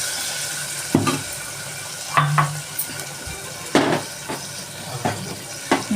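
Mutton frying in a pan with chili powder, sizzling softly beneath repeated scraping clinks of a spoon stirring against the metal, the stirring strokes coming in irregular bursts close by.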